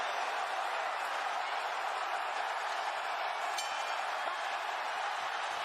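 A boxing arena crowd cheering as the Jake Paul vs Tyrone Woodley fight gets underway, a steady, dense roar of many voices, distant and even, with no distinct shouts standing out.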